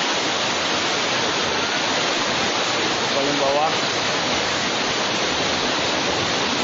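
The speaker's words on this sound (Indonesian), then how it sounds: "Di sini juga air terjun." Continuous dense rushing roar of falling water at a natural waterfall, loud and close, with a short spoken phrase partly over it.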